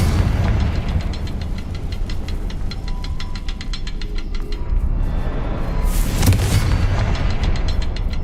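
Confringo spell blast from Hogwarts Legacy gameplay, a loud booming burst near the six-second mark rising out of a dense, continuous rumble of game noise.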